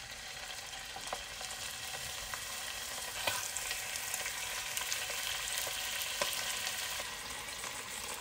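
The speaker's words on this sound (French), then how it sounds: "On va mettre les petits morceaux de viande." Small pieces of meat fry in about three tablespoons of olive oil for a Moroccan berkoukes, giving a steady, dense sizzle with faint crackles and occasional stirring clicks throughout, no voices.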